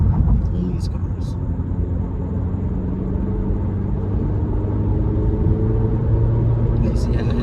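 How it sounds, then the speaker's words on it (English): A 2023 Acura Integra with a manual transmission accelerates with the throttle floored, giving a steady engine rumble with rising tones heard from inside the cabin, under continuous road noise. "see how I have my foot to the floor now? And we are accelerating"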